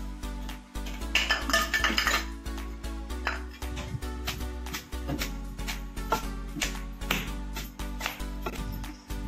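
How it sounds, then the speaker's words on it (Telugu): Fried green chillies pounded with salt in a stone mortar, a run of sharp, hard knocks in an irregular rhythm, close and fairly loud, with no talking. "ఇలా వేయించుకున్న పచ్చిమిరపకాయలు కొంచెం సాల్ట్ వేసుకొని బాగా దంచుకోవాలి"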